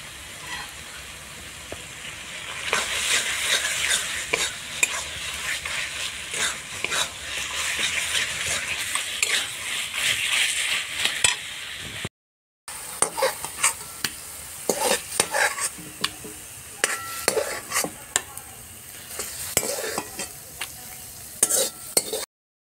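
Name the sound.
stirring cooked taro leaves with ghee in a pan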